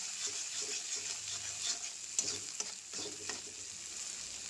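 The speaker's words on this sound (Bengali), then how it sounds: "ভালো করে মশলাটা ভাজি করতে হবে" Spice paste (masala) frying in a pan, a soft continuous sizzle with a few scraping stirs and small sharp taps of the spoon, close and fairly quiet, no voices.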